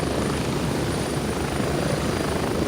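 A helicopter in the military shooter game Gray Zone Warfare drones loudly and continuously, its rotor and engine roar filling the scene close up without any voices.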